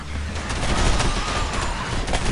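Sustained gunfire from the shooter game Area 51, a dense, loud volley of shots that runs throughout with no clear gaps.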